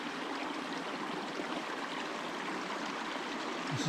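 Clear Creek, a stream in Nevada, runs with a steady broadband rush and babble of flowing water, continuous and fairly close, without voices.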